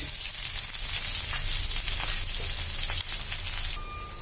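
Chopped onion, ginger, garlic and green chili fry in hot oil with black mustard seeds and fennel, giving a loud, steady close sizzle that softens slightly near the end.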